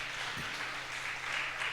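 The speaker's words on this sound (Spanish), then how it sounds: "Pero aplaudieron como si no creyeran esa palabra." A church congregation at a Spanish-language sermon applauds, a steady wash of many hands clapping at moderate volume for under two seconds, with no voices.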